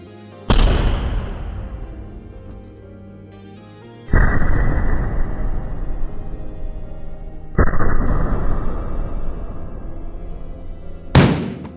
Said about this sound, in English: Hopefully all the acetylene has filled our pumpkin. We use this stick lighter and light it on fire.